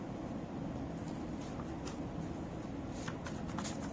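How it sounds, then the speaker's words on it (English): Homemade DIY oracle card deck being shuffled by hand, a continuous soft papery riffling and rustle with a few sharper flicks near the end, close and alone without talk. "So I'm just going to shuffle it again."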